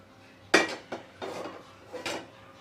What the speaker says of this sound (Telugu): ఇప్పుడు కడాయి పెట్టేసుకోవాలి.